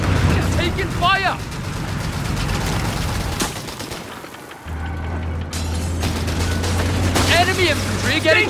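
Gunfire crackles through a Company of Heroes 3 battle, bursts of shots and booms over a low engine drone, with voiced unit chatter at the start and end.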